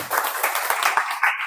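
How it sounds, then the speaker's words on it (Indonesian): A congregation at a Christian sermon claps together in a brief, dense patter of many hands, close and fairly loud, lasting about a second and a half with no voice over it. "Tepuk tangan."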